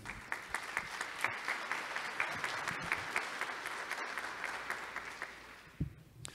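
A room of conference attendees applauds in honour of Minas, a sustained, fairly distant wash of clapping with a few sharper individual claps standing out, tapering at the very end.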